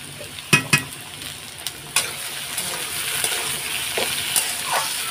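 A paste of tomato, ginger and green chilli being stirred in a hot pan: a few sharp utensil knocks at the start, then a continuous close sizzle with light scraping, no talking.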